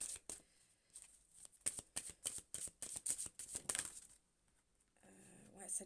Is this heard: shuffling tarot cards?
yes